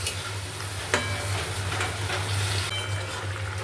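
Chicken in a yogurt gravy with methi being stirred as it fries in a pan, a steady close sizzle with a few scraping clicks from the spoon and no talk.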